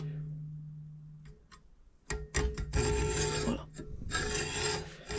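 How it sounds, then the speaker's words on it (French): A saw blade scoring along a marked pencil line in wood while making a sliding bevel, a rough rasping scrape in several strokes that grows louder and steadier after a quiet start, with a brief word spoken near the end. "je vais venir passer ma lame sur le trait"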